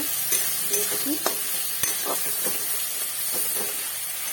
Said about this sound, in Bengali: আমি একটু সামান্য জল দিয়ে মশলাটা ভালো করে কষিয়ে নিচ্ছি